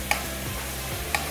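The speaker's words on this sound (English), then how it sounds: "I'm just kind of lightly stir frying it." Seasoning with crushed allspice lightly stir-fried in a pan, a soft continuous sizzle with two sharp clinks of the utensil against the pan about a second apart, close, no talking.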